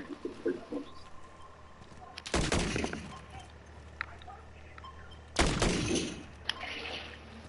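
Gunfire crackles in a Call of Duty 3 zombies match, with two loud bursts of shots around the middle and end and fainter scattered sounds between them.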